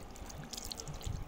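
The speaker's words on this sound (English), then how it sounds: "you press this with your foot, and then release the water" Water pours briefly from a foot-pedal handwash station, a short nearby splash and trickle with no voices.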